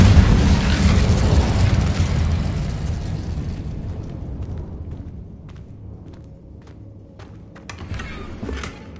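An Incendio fire spell in the video game Hogwarts Legacy bursts in a loud, broad blast, its roar fading slowly over several seconds and closing with a few scattered pops and thuds.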